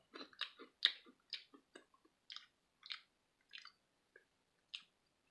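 Mango-flavored edible silkworms being chewed up close, crisp crunchy bites and wet mastication in an uneven rhythm of about a dozen distinct chews, gradually spacing out, with silence between and no talk.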